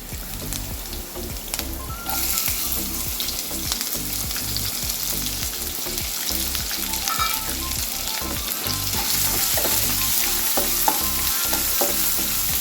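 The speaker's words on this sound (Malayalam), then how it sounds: "നമുക്ക് കുറച്ച് സവോള അരിഞ്ഞിട്ട് കൊടുക്കാം" Sliced onion sautéing with ginger and green chilli in a pan for rice flakes upma, a steady close sizzle with repeated scraping stirs of the spoon throughout, growing slightly louder toward the end.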